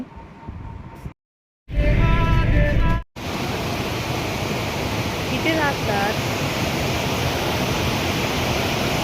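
A monsoon waterfall at Dajipur near Radhanagari roars as a loud, steady broadband rush filling the scene, with a brief gap and a spoken exchange early on.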